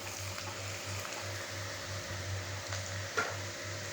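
Boiled potatoes stirred in a frying pan of sweet-and-sour gravy, giving a faint sizzle under a pulsing low hum, with a small scrape near the end.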